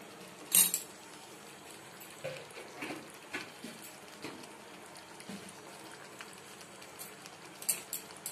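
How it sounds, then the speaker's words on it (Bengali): A spoon stirs sugar into makhana paneer in a pan, giving a few faint, sparse metallic clinks over a quiet, hissy background with no talking. "এবারে দিয়ে একটু নাড়াচাড়া করে দিচ্ছি, মিষ্টিটা যাতে ভালোভাবে মিশে যায়।"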